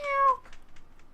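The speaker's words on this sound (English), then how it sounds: "Meow." Cat in the video game Trails in the Sky the 3rd gives one clear, close meow that rises and falls, followed by a couple of faint trailing sounds.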